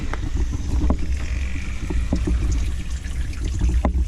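Coolant pours out of an overheating 1985 Ford Mustang LX 5.0 Foxbody convertible engine in need of new hoses: a steady, close splashing trickle with scattered sharp ticks and drips.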